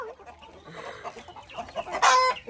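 Chickens at a family home cluck and squawk close by, a busy jumble of calls that rises to a louder, sharper burst near the end.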